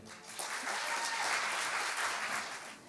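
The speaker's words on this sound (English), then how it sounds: "Another round of applause for that vocal excellence." An audience at an African Heritage Month launch event applauds, a dense, steady wash of many hands clapping that swells slightly and holds for several seconds, with faint voices underneath.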